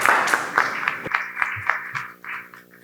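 An audience claps for a doctor who has just finished a lecture at an AI ethics conference. A burst of applause rises in the opening second, then thins into scattered claps under a steady tone.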